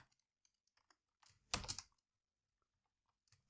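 Code is typed on a computer keyboard in a quiet room: scattered faint key taps, a short dense burst of louder clicks in the middle, and a few more soft taps at the end.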